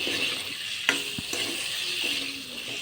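Pumpkin and chicken curry being stirred in a pan, a steady sizzle of frying with a few soft scraping strokes of the spoon, close and continuous with no talking.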